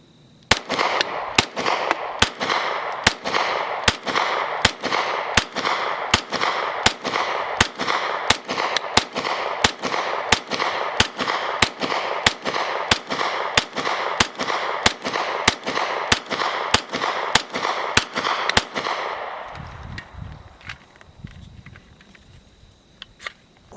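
A Grand Power Stribog with a curved magazine firing Freedom Munitions 124 grain jacketed hollow points: about two dozen sharp, evenly spaced shots over roughly twenty seconds, then the ringing fades out.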